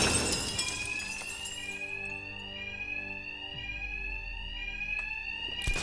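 Alarms blare in Batman Arkham Knight, a loud sustained electronic ringing tone held throughout, with a crash of breaking glass at the start and another burst near the end.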